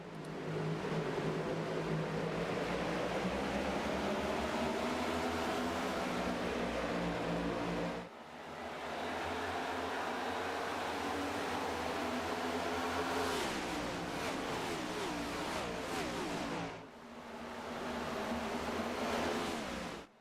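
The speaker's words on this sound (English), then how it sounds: "I'll go a bit quiet so we can hear these cars roar away" Stock cars roaring away together at the start of an Australian stock car championship race, a loud sustained engine drone from the pack that breaks off twice in sharp cuts and picks up again.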